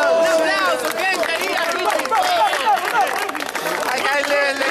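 A rap battle crowd at an underground freestyle event cheers and claps loudly and continuously, with shouting voices and babble mixed into the applause.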